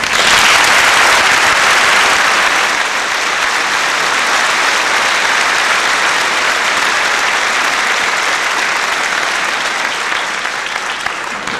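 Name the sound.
audience applause at Christmas concert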